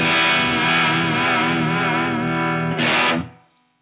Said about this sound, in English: there's just something fun about harmonic tremolo, isn't there?